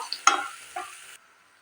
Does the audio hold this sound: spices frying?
yes